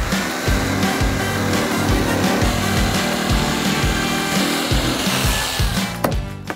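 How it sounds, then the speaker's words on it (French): Jigsaw cutting a kitchen backsplash panel, a loud close buzzing saw with a rapid rhythmic chatter of the blade that runs steadily, then slows and stops near the end. "Pour cette découpe, on va aussi utiliser notre scie sauteuse."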